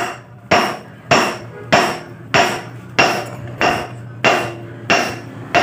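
Repeated hammer blows on a seized rear wheel part of a Honda Vario scooter during bearing and seal replacement, ten sharp metallic strikes at a steady rhythm of roughly one per half second, close and loud with no talk.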